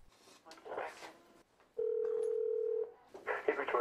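Telephone keypad tones dialing a call, a steady single beep lasting about a second between stretches of nearby talk, in an office setting.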